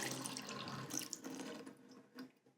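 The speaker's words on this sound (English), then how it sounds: "I must have left it running when I needed some water for my plants." A tap runs in a cartoon, a faint steady stream of water splashing into a sink for a couple of seconds before it tails off.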